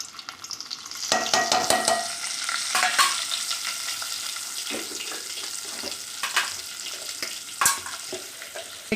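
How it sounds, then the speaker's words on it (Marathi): Egg curry masala frying in hot oil, a continuous loud sizzle with scraping and stirring sounds of a spoon in the pan throughout. "ती फ्राय करून घ्यायची तेलामध्ये।"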